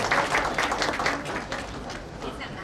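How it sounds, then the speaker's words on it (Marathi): An audience in the Pu La Deshpande auditorium claps in a dense burst to welcome a performer on stage. The clapping is strongest at first and thins out gradually, with voices mixed in. "आपण सगळ्या यांना टाळ्या वाजून त्यांचं स्वागत करू"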